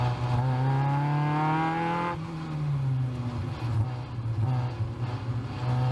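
Caterham Seven race cars and a red Formula Mazda accelerate hard on a Pacific Northwest race track, a loud, steady engine drone climbing through the gears, with a shift near the start and continuous roaring close by, no talk.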